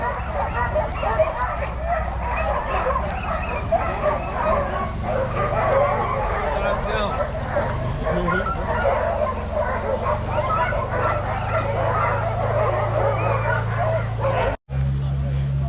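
Sled dog puppies yip and bark in a busy, overlapping chorus at a kennel stop on an Alaska cruise excursion, constant high-pitched yelps over a low engine-like rumble, with people talking nearby.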